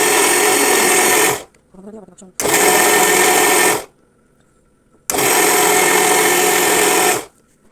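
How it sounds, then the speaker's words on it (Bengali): An electric blender whirs through a mango smoothie in three loud, steady bursts of a few seconds each, separated by short quiet gaps that carry faint clinks and rattles. "চলুন তাহলে ব্লেন্ডার করি, দেখি কি অবস্থা হয়।"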